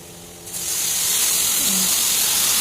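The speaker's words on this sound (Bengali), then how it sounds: "তেজ তেজপাতা ফোড়ন দিয়ে এখন একটু বেজে নিচ্ছি" Bay leaves frying in hot oil with onion for a country-style chicken curry, giving a steady hiss that swells after the first half second and then holds loud and even.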